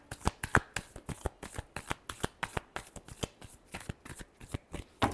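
Tarot cards being shuffled by hand, a quick, even run of crisp riffling snaps and flutters, close and fairly soft, continuing steadily with no talking.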